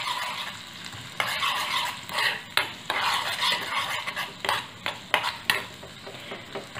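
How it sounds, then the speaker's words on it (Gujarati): Cumin seeds and grated fresh turmeric frying in hot ghee, stirred with a spoon. A constant sizzle sits under frequent metallic scrapes and clinks from the stirring, close and fairly loud, with no talking. "સાથે સાથે આપણે જે હળદર ખમણી તે ઉમેરી દેશું. સરસ મિક્સ કરી લઈશું."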